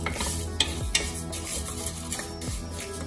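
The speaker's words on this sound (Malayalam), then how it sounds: "നെയ്യ് ഒഴിച്ചു കൊടുക്കാം ഇനി ഇതിലേക്ക് ചെറുപയർ പരിപ്പ് ഒന്ന് ഇട്ട് വറുത്തെടുക്കണം" Split moong dal roasting in ghee in a pan, stirred steadily with a spoon scraping the metal, with a soft continuous sizzle and a few sharper clinks throughout.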